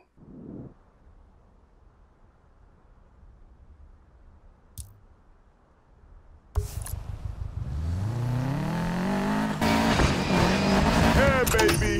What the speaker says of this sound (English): You will need to use an off-road car and drive off the ramp at high speeds to grab the chip